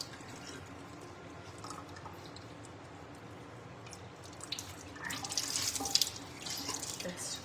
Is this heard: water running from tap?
yes